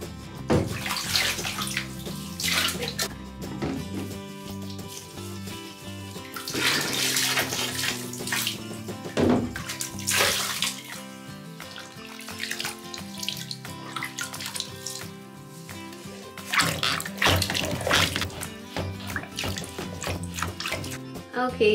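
Water in a bathtub during a bath, with splashing and sloshing surges rising and falling throughout, loud and close, with some tap-like running water and a background hum.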